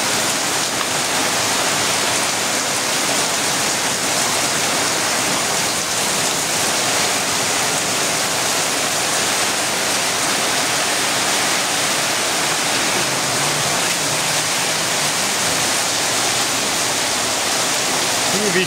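Heavy rain pours down in a continuous, dense roar that holds steady and loud from start to finish.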